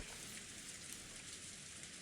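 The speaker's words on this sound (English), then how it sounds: "there's even a typhoon and rain outside now" Steady rain from a typhoon falling outside in the Umineko visual novel, a constant broadband hiss with no voices, even and unbroken throughout.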